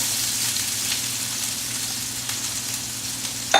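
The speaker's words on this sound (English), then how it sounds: "we're going to go in with our onions, sliced white onion, some thinly sliced carrot, because we want it to cook really quickly and keep it moving" Sliced white onion and thinly sliced carrot sizzle and hiss steadily in a hot pan as chicken is stir-fried, a continuous close frying sound with a faint clink at the very end.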